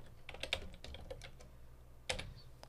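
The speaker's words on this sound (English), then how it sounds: "all I need to do is type in the name of it" Quick keystrokes on a computer keyboard as a file name is typed, a short burst of clicking taps, a pause, then a final pair of presses, close and fairly quiet.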